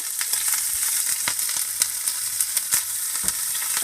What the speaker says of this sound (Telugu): ఆయిల్ 2 టేబుల్ స్పూన్స్ ఆయిల్ పెట్టుకొని దాంట్లోకి మనము పోపుకు కావాల్సిన సామాన్లన్నీ వేసుకొని